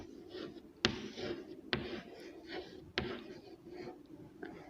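Pen or chalk scratches as numbers are written by hand, quiet repeated strokes with a few sharp taps punctuating the soft scratching, no talking.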